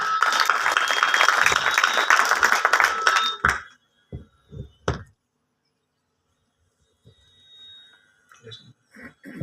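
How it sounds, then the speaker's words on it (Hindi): Outdoor crowd applause at an Ambedkar Jayanti gathering, a loud, dense burst that stops abruptly after about three and a half seconds, followed by a few isolated knocks and soft stray sounds in near silence. "उनके लिए भी एक बार तालियां बजाइए"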